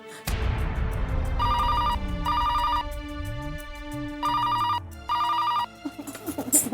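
A telephone rings in a Hindi family drama scene, four loud electronic ring bursts in a steady rhythm over a low background music bed, with no talking.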